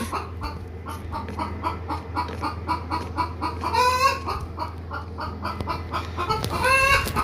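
Chicken clucking in the Minecraft video game, with two short bursts of squawking clucks that stand out over a steady background drone.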